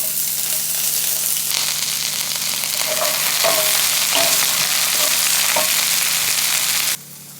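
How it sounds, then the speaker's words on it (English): Shredded cauliflower leaves fry in hot olive oil in a pan, making a loud, steady close-up sizzle with a few stirring scrapes, then dropping abruptly quieter at the end. "The shredded leaves can now go in here and I'm going to fry them off."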